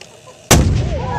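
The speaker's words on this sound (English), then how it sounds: "Warning, detonation." A hydrocarbon detonation goes off in a single sudden, very loud blast, followed by a rolling echo that decays over the next half second. A quiet lead-in comes just before it.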